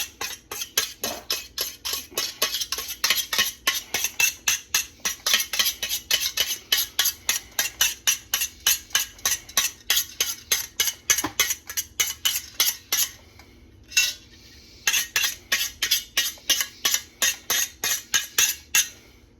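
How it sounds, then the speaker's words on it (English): A utensil scrapes residue from the inside of a cooking pot in rapid, even metallic strokes, close and steady, pausing briefly once before the rhythmic scraping resumes. "Now you're going to finish scraping that off."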